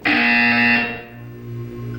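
A harsh electronic buzzer from the Portal 2 video game sounds once, loud and close, holding steady for under a second before fading into a lower lingering hum.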